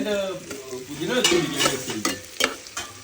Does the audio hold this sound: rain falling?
no